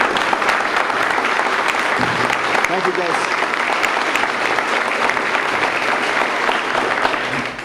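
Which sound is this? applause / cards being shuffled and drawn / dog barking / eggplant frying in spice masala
applause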